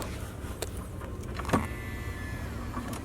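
A motorized infotainment screen in a Chevrolet C7 Corvette whirs as it moves, a quiet mechanical hum inside the cabin with a few soft clicks and a brief thump midway, heard up close against a low interior background.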